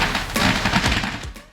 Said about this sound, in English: You can donate firecrackers that will be lit inside these beehive-like clay structures